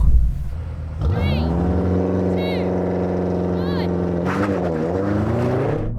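A BMW M5 revs up and launches in a drag race, its engine note climbing steadily and loud through rising gears with brief shift dips before a final lurch near the end.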